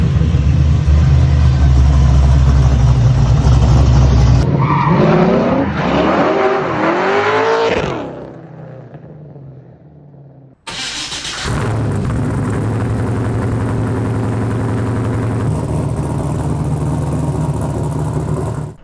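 A Nissan S13 with a 6.0 LS V8 engine runs loud and close, a steady heavy drone broken by a rising rev with a tire-squeal-like sweep, a sudden cut to near silence, then the engine roaring back steadily.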